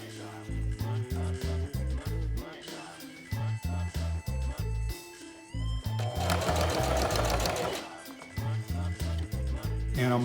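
Sewing machine stitching backward and forward over elastic on a homemade surgical mask: short bursts of rapid mechanical chatter starting and stopping, with pauses and a longer run midway, a voice talking between bursts.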